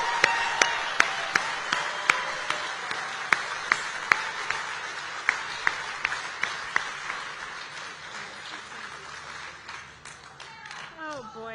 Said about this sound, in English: Let's give Sarah a round of applause.